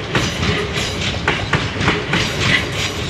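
Class 450 electric multiple units moving through Basingstoke station, a steady close rumble with rhythmic clickety-clack of wheels over rail joints throughout, no talk.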